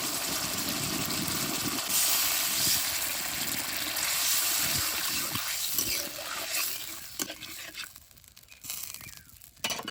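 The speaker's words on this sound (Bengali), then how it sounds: "এখন জল দিয়ে দেবো।" Water pours steadily into Manchurian gravy in a pan, a broad rushing hiss up close that thins and breaks into splashes and drips toward the end, no voices.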